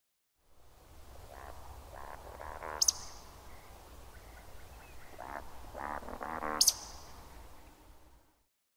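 Croaking calls of a bird nicknamed for its croaks, in a natural outdoor setting: a series of short rasping calls over faint background noise, with two sharp high chirps standing out.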